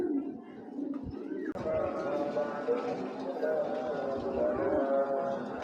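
A racing pigeon coos repeatedly in low, soft, rolling calls, close by and steady, with someone talking over it and a brief thump early on.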